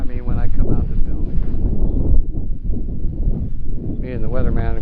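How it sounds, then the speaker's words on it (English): Gusty wind buffets the microphone with a steady low rumble, while someone talks over it at close range. "always when it's windy, when I come out to film"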